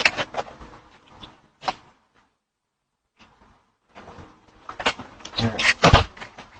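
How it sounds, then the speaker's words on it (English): A car door opens and shuts with a dull clunk, heard near and loud amid a couple speaking on a date night. "No, just open the door."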